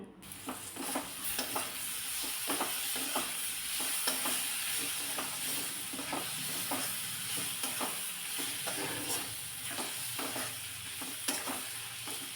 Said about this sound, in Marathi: थोडा वेळ टोमॅटोसुद्धा चांगला परतून घेतला